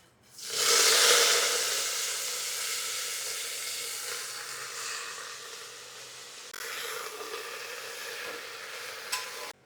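Mustard oil sizzles in a pan during Bengali home cooking, a loud, steady hiss that bursts in abruptly, then eases to a softer, continuous crackle. No one speaks.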